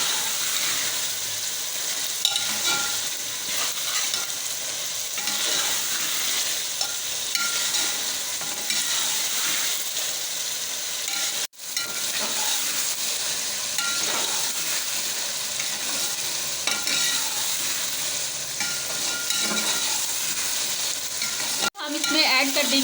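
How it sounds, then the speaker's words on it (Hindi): Peas and potatoes stir-fry in spices for aloo matar pulao, with a steady close sizzle of hot oil and frequent scraping and stirring in the pan throughout. "मटर आलू ऐड करने के बाद इनको हम मसाले में अच्छे से भून लेंगे।"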